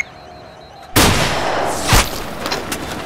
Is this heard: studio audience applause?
no